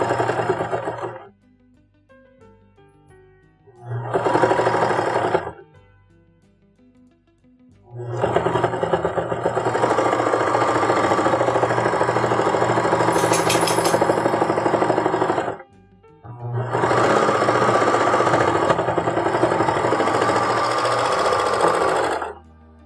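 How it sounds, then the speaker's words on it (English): A serger sewing machine runs in several bursts, short ones first and then long steady stretches, while a pickleball bag is finished; a loud, close, rapid mechanical chatter broken by pauses, with no talking. "The noise from the serger get picked up by the mic, by the way."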